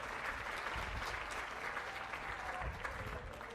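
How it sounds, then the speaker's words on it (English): Sustained audience applause at a live march performance, a thick continuous patter of many hands clapping at steady loudness from start to finish. "Give both of those guys a round of applause."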